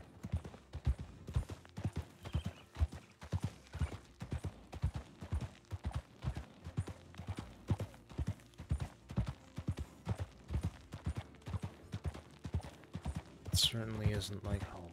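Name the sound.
horse hooves clip-clopping, from a video game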